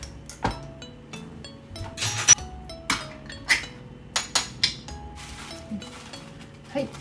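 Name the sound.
draining the oil from a canned tuna tin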